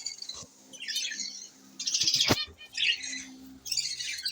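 Budgerigars in a breeding setup chirp and squawk close by in several bright, warbling bursts with short pauses between them. One sharp click cuts through the middle.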